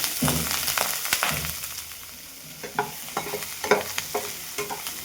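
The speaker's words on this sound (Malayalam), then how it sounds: "അതിലേക്ക് 3 വെളുത്തുള്ളി അല്ലി ചോപ്പ് ചെയ്തതും 1 പച്ചമുളക് കട്ട് ചെയ്തതും 2 വറ്റൽമുളകും ചേർത്ത് വഴറ്റാം" Chopped garlic, green chilli and dried red chillies sautéing for cheera thoran, a low sizzle broken by repeated scraping, tapping strokes of a spoon stirring in the pan, close and fairly quiet.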